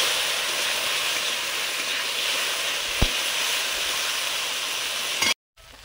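Magur and koi fish from a village pond frying in hot oil in a pan, a steady loud sizzle and hiss running almost unbroken, with one brief sharp pop midway before the sound cuts off near the end.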